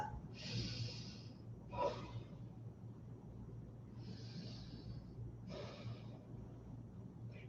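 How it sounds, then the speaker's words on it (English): Slow, audible breaths taken while folded forward in a yoga standing forward bend, two long airy inhale-exhale cycles close by, with quiet pauses between and no talking. "So here, a couple of breaths."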